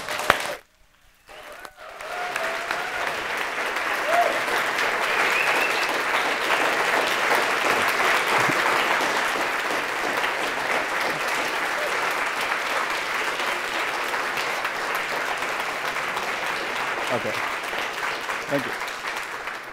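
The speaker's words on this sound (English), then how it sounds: "so you're probably applauding for that video." An audience at a colloquium breaks into warm, sustained applause after a brief quiet start, a dense wash of clapping holding steady for nearly twenty seconds before starting to thin at the end.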